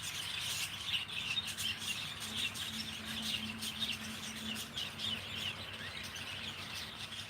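Small birds in a home aviary chirp and tweet continuously, a dense overlapping chatter of high calls at moderate distance with no talking.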